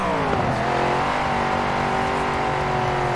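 A car in the racing game Forza Horizon 4 drives forward with its engine droning loudly and revving upward, a continuous close-up motor roar with shifting pitch throughout.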